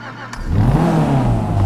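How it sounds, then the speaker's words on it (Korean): A Dinka Postlude car engine in GTA 5, starting up and then revving, loud and close with a rising mid-pitched roar that holds steady, no talking. "엔진 소리 들어봅시다."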